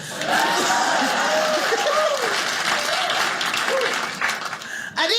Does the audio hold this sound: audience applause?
yes